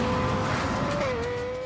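Lexus LFA 4.8-litre V10 engine revving hard, a loud, close, rising howl that climbs sharply in pitch, dips briefly, then holds high and steady.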